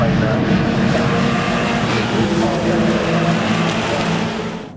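A light aircraft flies over the Donington Park GP circuit during a race meeting, a steady broad engine drone sustained throughout and fading slightly at the end, with commentary talk heard over it.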